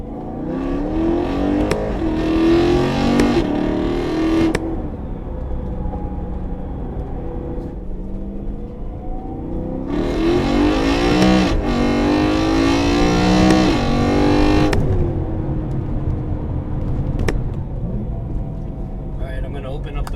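A BMW E93 M3 with a new transmission mount revs up in two long surges, with a steady engine drone between them and a subtle gear-like whine from the drivetrain. The engine runs loud and close, with speech over parts of it.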